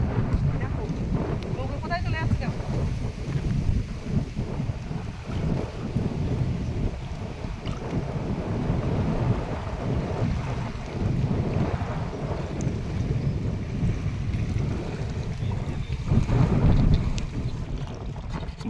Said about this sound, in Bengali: প্রচণ্ড কিন্তু হাওয়া সেই সাথে কিন্তু নদীতে তুফান হচ্ছে খুব